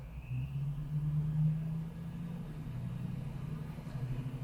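Supercharged Chevrolet Tahoe engine on a dyno in second gear, a loud low droning roar that climbs in pitch early on and then holds a steady heavy rumble.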